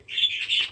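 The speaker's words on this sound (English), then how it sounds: "my birds are so having a good time." Pet birds indoors chirp in a brief, quick burst of high twittering calls, close and moderately faint, with no talk.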